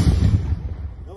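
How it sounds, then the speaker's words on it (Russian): A heavy, booming low rumble like a distant gunshot blast, decaying quickly over about a second. "Выстрел."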